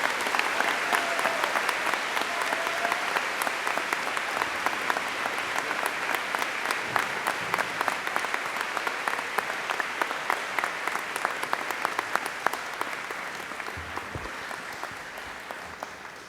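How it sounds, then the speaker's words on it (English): Applause for honor students at a high school convocation ceremony: a large audience claps loudly and continuously for about sixteen seconds, dense and sustained, with a faint murmur of crowd and talk underneath as it gradually tapers. "Let's give them a huge round of applause."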